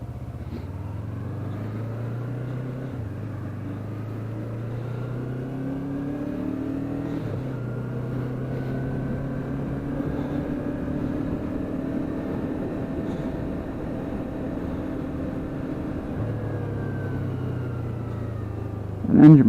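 Small sport motorcycle engine on a test ride, a steady droning hum that shifts pitch with gear changes and throttle over wind and road noise, with a sudden bump at the end.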